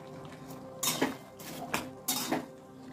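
Three sharp metallic clanks of a spoon against a cooking pot while bottle gourd curry is stirred and covered with a lid, set against a quiet kitchen background.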